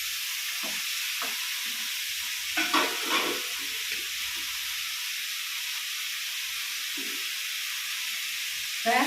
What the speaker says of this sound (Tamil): இப்போ நல்லா கிளறி விடணும்